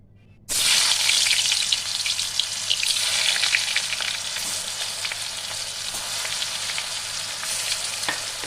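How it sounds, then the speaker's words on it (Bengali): Pangas fish fries in hot oil in a wok. After a short quiet start, a sudden loud sizzle bursts in and keeps crackling and spitting steadily close by, with scattered sharp pops. No talking. "এবার আমি পরপর মাছগুলো ভেজে নেব।"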